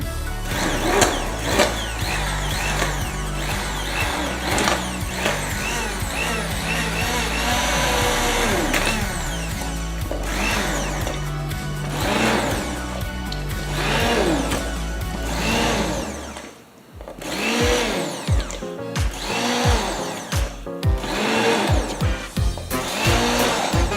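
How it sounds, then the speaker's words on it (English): An immersion stick blender purees homemade tomato soup with a loud, steady whirring drone that holds for most of the stretch, then briefly cuts out and restarts in short pulses. "I'm going to use my stick blender, immersion blender, however you want to say it."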